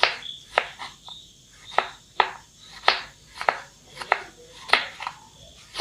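Peeled pumpkin cut into thin slices on a board, giving about a dozen sharp, close knife chops in a fairly steady rhythm, with no talk.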